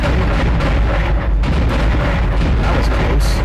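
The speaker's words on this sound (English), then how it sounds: "The cannon's a mass driver, so it should punch through anything flying at us." Heavy, booming mass driver turret cannon fire in Dead Space rumbles continuously with bursts of blasts layered together, loud and dense, like a sci-fi battle.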